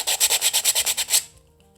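Sandpaper rubbed briskly over hard plastic in about ten quick, even back-and-forth strokes, close up, then stopping.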